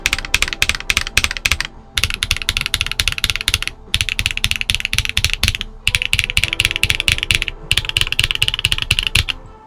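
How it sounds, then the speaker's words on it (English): Fast, loud clacking of keys on a Cannonkeys Photon mechanical keyboard in rapid bursts, broken by short pauses, close up with a hard, rattly click that varies between rows. "Almost every row sounds like it could be coming from a different keyboard."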